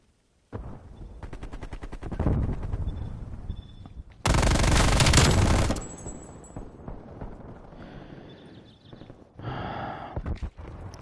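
A light machine gun fires in a video game, loud rapid rhythmic bursts of shots, followed by a sudden roaring blast and further fainter rattling effects.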